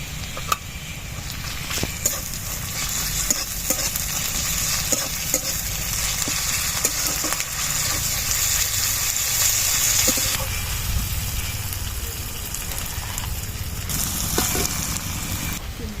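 Ginger garlic paste fries and sizzles in a hot pan for a Bengali fish curry, a steady loud hiss with stirring scrapes running throughout, no talk over it.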